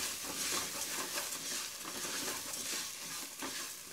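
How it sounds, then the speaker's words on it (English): A spoon stirs a vegan butternut squash filling in a hot pan, giving a dense continuous sizzle with a rough scraping texture throughout and no voices. "Mix that around."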